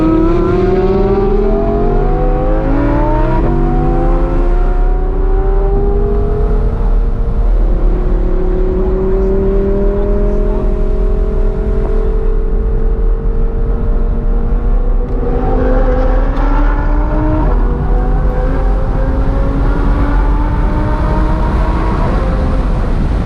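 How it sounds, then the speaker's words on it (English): An Audi R8 laps a race track on a track day, its engine climbing through gears in repeated rising sweeps, loud and continuous with steady road and wind roar under it. "Car action right now."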